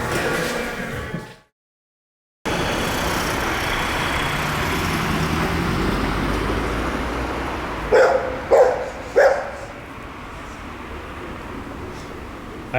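A dog barks three or four times in quick succession on a street in Tallinn's old town, moderately close, over a constant wash of road traffic.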